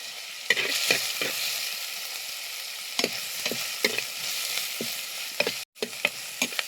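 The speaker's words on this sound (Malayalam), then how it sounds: "ഇഞ്ചി വെളുത്തുള്ളി നല്ലൊന്ന് മൂപ്പിച്ചെടുക്കുക" Ginger and garlic fry with curry leaves in a pan, a steady close sizzle broken by irregular scraping stirs and clinks of the spoon against the pan, with a brief drop to silence near the end.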